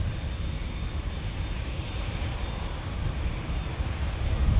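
Airliner jet engines rumble at San Diego airport as planes line up on the ground. The roar is steady and broadband, a bit distant and wind-buffeted, and it swells slightly near the end with no voices.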